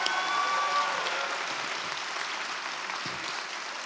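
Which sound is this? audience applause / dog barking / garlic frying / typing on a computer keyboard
audience applause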